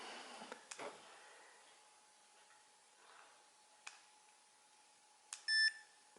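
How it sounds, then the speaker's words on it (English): A Mini Educator ET-300 dog collar remote gives a short, faint electronic confirmation beep near the end, after scattered quiet clicks and handling sounds in a still room. "It will confirm with a beep as well."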